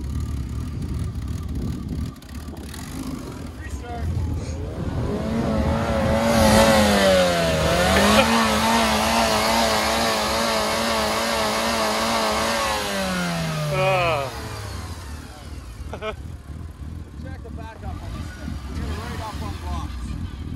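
A Honda Civic engine revs hard and holds high for several seconds while a tire spins, then the revs drop away; people talk over it throughout.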